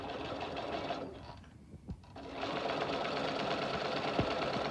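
A sewing machine stitches a plastic pocket, its steady rapid whir running close and clear, pausing briefly in the middle before starting again.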